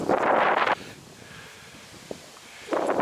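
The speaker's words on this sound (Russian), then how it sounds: "Ветрено." Wind gusts outdoors buffet the microphone in two loud rushing bursts, one at the start and one at the end, with a quiet stretch between them and no speech.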